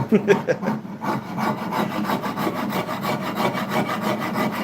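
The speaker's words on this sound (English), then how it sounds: "We're using a Dragon Rasp from StuMac." A StewMac Dragon Rasp is worked across the wooden body of a guitar, giving a steady run of close, coarse rasping strokes in a quick, even rhythm with no pauses.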